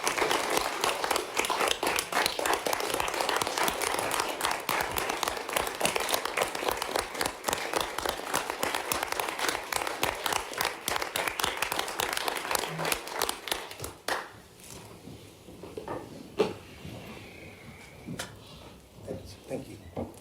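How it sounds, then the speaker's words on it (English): Audience applause at a University of Virginia Board of Visitors Advancement Committee meeting: dense, steady clapping from a seated group for about fourteen seconds, then thinning out to scattered claps and room sounds as it dies away. "I'd ask that you all join me in a round of applause"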